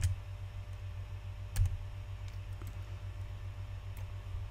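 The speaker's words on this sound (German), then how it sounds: "Ich klicke jetzt mal drauf." A computer mouse clicks once sharply near the middle, with a faint earlier click at the start and another soft one later, over a quiet steady hum.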